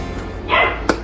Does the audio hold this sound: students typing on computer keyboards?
no